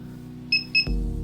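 An Arduino ultrasonic distance sensor's buzzer gives two short, clear high-pitched beeps close by, followed by a sudden low thump, over a steady electrical hum.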